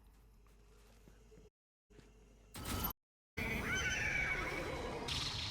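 Horses whinny and neigh in the video game Destiny, loud bursts broken by brief silences, with game ambience filling the gaps.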